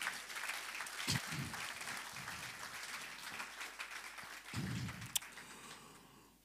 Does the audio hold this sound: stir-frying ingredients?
no